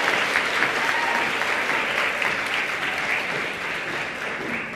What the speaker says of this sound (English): That's right, you can clap.